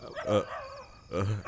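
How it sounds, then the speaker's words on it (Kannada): A dog barks twice nearby in a Kannada thriller film, two loud, short bursts separated by a brief pause, with faint background murmur. "ಇಲ್ಲ ನಾಯಿ ಬೊಗಳ್ತಾ ಇದೆ"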